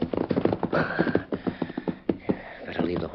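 Horse hooves clip-clop on the ground in a western radio drama, a quick, irregular run of close thuds with snorting and a whinny mixed in. A voice can be heard between the hoofbeats.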